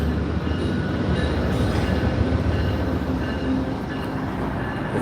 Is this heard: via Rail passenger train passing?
yes